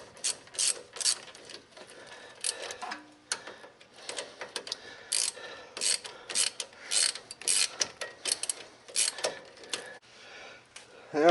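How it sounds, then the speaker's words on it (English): A ratchet wrench loosens brake bolts on a 2007 Ford Explorer XLT during a brake job, producing rapid bursts of close, crisp clicking that stop and start in uneven runs, with no one talking. "Now I got those bolts out, but you get new ones with the kit"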